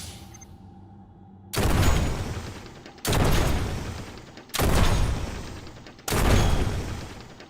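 A charged cannon in the game Dolls Nest fires four heavy shots, each a loud booming blast at a slow, even interval with a decaying tail, following a quiet lead-in.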